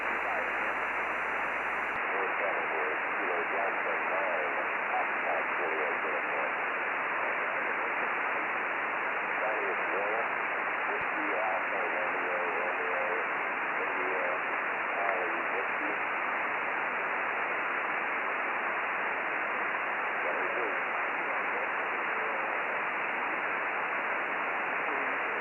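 Reception on a Yaesu FT-817ND ham radio with automatic gain control active, giving steady band-limited static hiss that swells and dips slightly, with faint garbled voices buried in the noise throughout.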